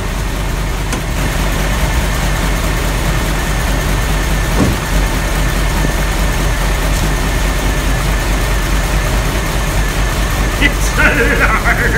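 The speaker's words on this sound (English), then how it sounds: "Slightly squeezy belt." Land Rover 90 V8 engine idling with a slightly squeaky belt, a steady low rumble close by, with a voice speaking over it.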